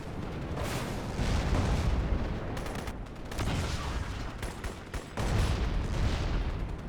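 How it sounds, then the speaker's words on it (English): Heavy bursts of explosions and gunfire from rifle grenades in the shooter game Crysis, loud and continuous with several sharp blasts and brief lulls, dense rumbling throughout. "Oh, I forgot I had the rifle grenades."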